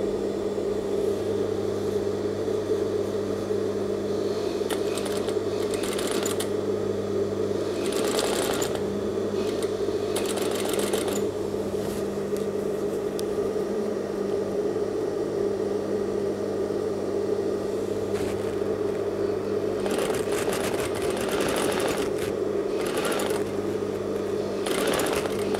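Sewing machine stitching piping around the neckline of an A-line robe, a steady close mechanical whir running unbroken for about twenty-five seconds, with light clicks and handling noises now and then and no speech.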